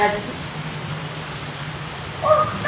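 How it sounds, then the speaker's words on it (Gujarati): Steady rain falling outside a home during a heavy downpour, a faint continuous hiss near the edge of hearing, with a voice talking over it and a brief chirp near the end. "ગાઈસ, વરસાદ પડે છે, વાસત આવે છે."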